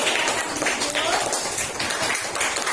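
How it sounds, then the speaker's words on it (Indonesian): A classroom group applauds with a dense, steady patter of many hands clapping, close and fairly loud, mixed with voices chattering throughout. "beri tepuk tangan untuk kelompok hipotensi"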